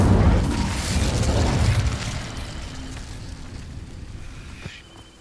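Incendio fire spell from Hogwarts Legacy set to dry vines, a loud whooshing burst of flame that roars for the first two seconds, then fades into a lower crackling rumble with a sharp pop near the end.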